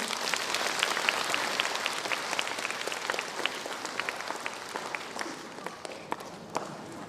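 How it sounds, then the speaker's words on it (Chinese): Applause from a concert audience at a 60th-anniversary Butterfly Lovers concert, a dense, continuous wash of many hands clapping that fades slightly toward the end, with no talking over it. "掌声欢迎"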